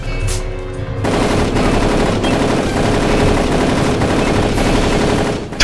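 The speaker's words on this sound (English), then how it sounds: "I'm just shooting this Tommy gun style." Tommy gun fire in the video game Darkest of Days: loud, sustained automatic bursts rattling almost continuously, with a brief gap before the shooting resumes.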